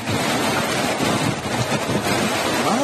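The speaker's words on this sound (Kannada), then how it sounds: "ರಭಸವಾಗಿ ಹರಿಯುತ್ತಿದೆ ಕೃಷ್ಣಾ ನದಿ." The Krishna river rushes forcefully, swollen by continuous heavy rain, producing a loud, steady roar of churning water with constant wind buffeting across the microphone and no voices.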